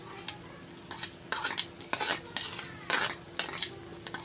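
A spoon works chopped onion into a thick bhaji batter in a bowl, making repeated bursts of wet scraping and clinking, about two per second, close and alone.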